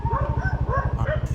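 Several household dogs yip and bark in quick, repeated bursts at fairly close range, with a steady low rumble underneath throughout.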